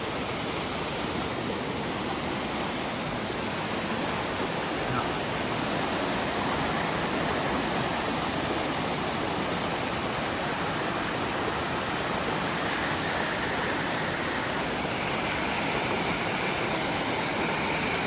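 A forest waterfall about seven to ten metres high pours in a constant, dense roar of falling water, steady and unbroken for the whole stretch with no voices.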